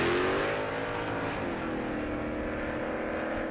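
An old Chevrolet Nova drag car runs on a half-mile airstrip drag strip, its engine revving up then settling into a rough, wavering drone that holds steady and fairly close.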